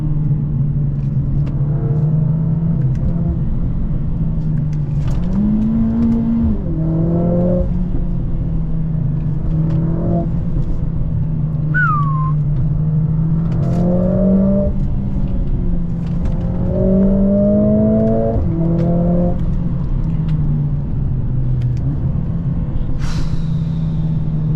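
Interior drone of a Mercedes-Benz CLA45S AMG accelerating hard, a loud steady engine rumble with repeated rising pulls through the gears and brief shift breaks, heard from the cabin with no talking.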